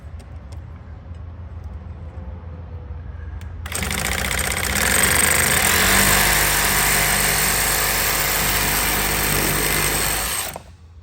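A power tool cuts pipe to length for a reduced pressure zone backflow assembly, starting abruptly after a quiet lead-in and running as a loud, steady whining grind for about seven seconds before stopping.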